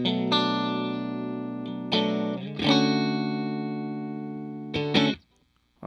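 A clean electric guitar, a Fender Strat played through a Vox AC30 amp, rings out in sustained chords. Several are struck in turn and left to ring before a brief cutoff, played close and alone.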